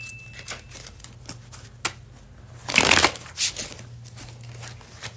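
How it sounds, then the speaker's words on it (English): Tarot cards shuffled by hand, soft riffling flicks with a louder, dense burst of card slaps midway, close and clear over a low steady hum. "Let's pull a card for winter for Scorpio."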